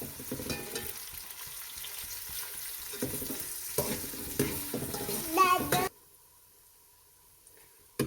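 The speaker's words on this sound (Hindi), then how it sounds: "2 प्याज लिए मैंने, इसे बारीक काट लिया है। इसे गोल्डन ऑयल तक से फ्राई करेंगे" Finely chopped onions fry in hot oil with a steady crackling sizzle, stirred with scraping clatters, before the sound cuts off to near silence.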